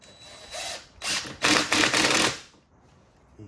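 Ratchet tightening brackets on a Nissan Frontier engine during plenum and valve cover reassembly, a few loud close bursts of rapid clicking that end in a quiet tail, with no talking.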